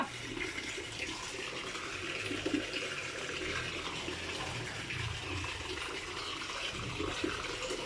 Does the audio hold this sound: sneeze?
no